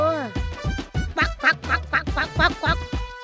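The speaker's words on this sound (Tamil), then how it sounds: "வாத்து பொம்மை." A duck toy quacks in a rapid run of nasal squeaky quacks, loud and close, with a brief rising tone at the start.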